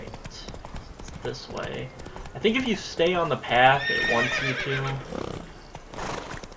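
Horse hooves clip-clop in the video game The Witcher 3: Wild Hunt, with a neigh rising over the steady gait while someone talks throughout.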